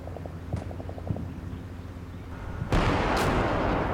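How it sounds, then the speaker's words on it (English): Artillery fire in the Combat Mission Black Sea war game: a few distant thuds and pops early on, then a loud, sustained boom and rumble of a shell barrage striking a house, with no talking. "We're going to drop artillery on the house over here."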